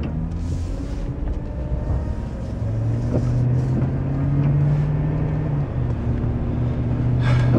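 A Chevy 5.3 engine whines while the vehicle is driven and turns, a steady droning hum with a faint tonal whine above a road rumble, rising slightly toward the end.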